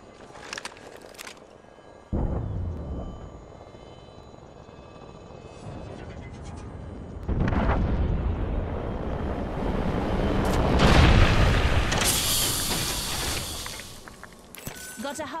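Lifeline care package called in and dropping in Apex Legends: a sharp activation burst, then a building rumble and whooshing descent that swells to a loud landing roar with crackling debris, alongside game effects.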